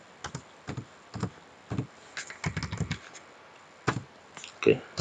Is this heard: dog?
no